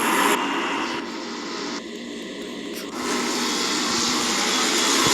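Jet engines on a Boeing 747 in the SimplePlanes game roar as a loud, steady, hissing whine with shifting tone layers, heard alone without talk.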